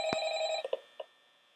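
A phone rings inside the Five Nights at Freddy's video game on a mobile device, a bright electronic ring tone with a sharp click, then a few soft knocks as it fades.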